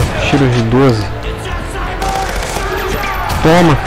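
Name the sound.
shotgun fire in video game Huntdown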